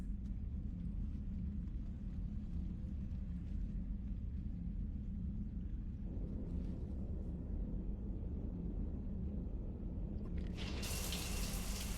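Shower water running in the Mass Effect 3 game, a steady low rushing spray with continuous rumble, close and unbroken, brightening into a harsher hiss near the end.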